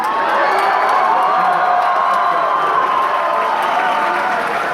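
A large audience at the Politicon political debate cheers and applauds loudly and continuously. Clapping, whoops and crowd roar fill the whole stretch with no break.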